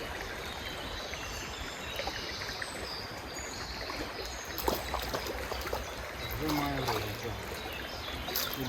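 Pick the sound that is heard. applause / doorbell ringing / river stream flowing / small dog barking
river stream flowing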